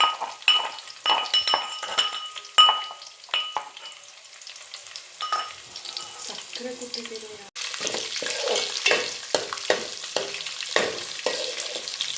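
Crushed garlic with a little curry leaf sizzling in a pan while a metal spoon stirs it, bright clinks and scrapes against the pan over a steady frying hiss, close and busy throughout.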